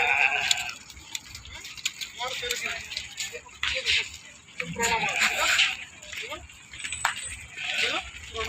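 Goats bleat repeatedly at close range amid people talking at a goat market, with occasional clinks and rustling in the background.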